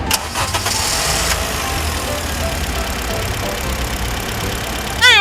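A 2020 Honda Mobilio 1.5 S engine cranks and catches, then settles into a steady, loud idle that rumbles on evenly, with a brief squeal at the end.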